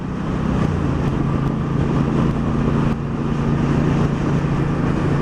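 A 2018 Triumph Bonneville Bobber motorcycle rides in fourth gear, its steady engine drone and low rumble blending with constant wind buffeting across the microphone, loud and unbroken throughout.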